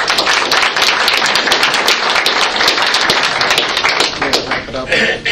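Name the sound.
audience applause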